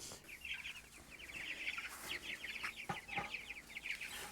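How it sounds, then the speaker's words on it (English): Young chicks destined for a pasture hoop coop cluck and peep in a busy overlapping chorus, fairly faint and close, with no talking. "We've had 24 chicks left that we're going to be putting out in the hoop coop and the pasture."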